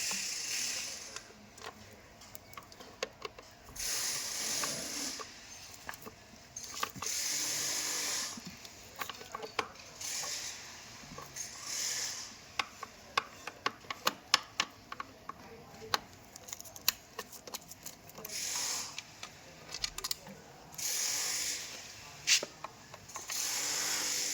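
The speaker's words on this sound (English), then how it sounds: "So for this we need a screwdriver. Remove all the 4 screws on the box." A screwdriver works loose the four screws on an e-bike controller box, with repeated close ratcheting clicks in several bursts separated by brief pauses and handling noise.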